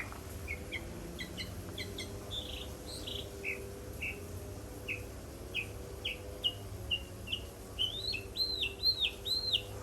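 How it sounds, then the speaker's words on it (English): Birds chirp and tweet in a garden in February, with repeated short bright calls that grow louder and more rapid toward the end, over a steady insect-like drone and a low background hum. "So peaceful when you hear the birds."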